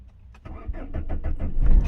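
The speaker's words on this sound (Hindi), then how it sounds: "ये हमारी गाड़ी स्टार्ट होगी और मैंने छोड़ दिया स्टार्ट होते ही" A Maruti Suzuki Swift engine is started with the key: a short cranking whir builds into the car catching and running, ending in a louder rising rev close to the microphone, with no talk over it.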